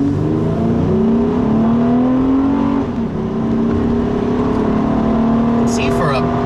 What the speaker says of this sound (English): for a V6 and a pickup truck, this thing's pretty badass sounding to me